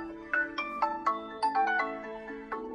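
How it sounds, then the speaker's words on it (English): A phone rings after being triggered by a Tile Bluetooth tracker, playing a bright melodic ringtone of quick repeated tones in a bouncing pattern, fairly quiet and alone. "It plays that sound and it'll start ringing the phone that's connected to it."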